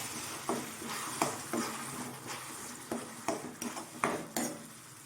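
Tomato paste sizzles in a pan with ginger garlic paste for an egg curry, a steady frying hiss broken by a few sharp spoon scrapes and clinks against the pan.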